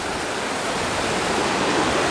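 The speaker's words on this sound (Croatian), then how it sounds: "Predivan potok, ja." A mountain stream runs through forest on the trail to Stanley Glacier in the Alberta Rockies, a loud, steady broadband rush of flowing water with no breaks and no voices.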